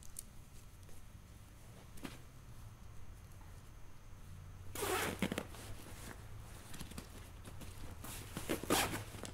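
A zipper on an Eberlestock Skycrane II backpack being run closed over mounted accessories, quiet intermittent rasps at first, then a louder, longer zipping burst midway and another near the end, close to the microphone.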